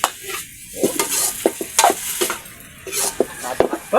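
Pasta tossed with dried fish and green olives being stirred in a pan, a close, uneven scraping and clinking of a utensil against the pan with soft sizzling beneath, in quick separate strokes.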